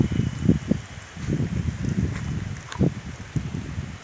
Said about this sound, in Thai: มีลมนะครับ ลมกันโชกอย่างแรง